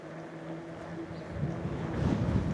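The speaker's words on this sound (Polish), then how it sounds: "Ależ wieje." Strong wind blasting across a microphone while riding a bicycle, a steady low rumbling buffet that swells louder and rougher toward the end, with a faint steady hum beneath and no voices.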